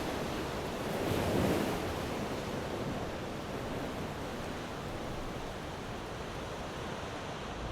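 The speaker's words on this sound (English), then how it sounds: "A bit windy today. It's too windy for the beach" Wind and surf at the Blue Pool in Bermagui, a steady broadband roar of waves with gusty wind buffeting the microphone, swelling briefly near the start and then holding level.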